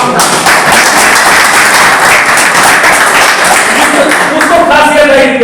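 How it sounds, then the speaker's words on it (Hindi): An audience at a public gathering breaks into loud, sustained applause, with dense clapping continuing for several seconds and voices mixed in. "थोड़ा ताली एक बार दिलीप भाई के नाम पर जोर से"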